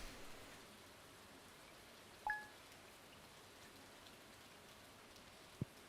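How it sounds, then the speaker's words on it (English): Steady soft rainfall in the Stardew Valley video game, a faint continuous hiss of drops with a couple of brief clicks, no voices. "Still fucking raining."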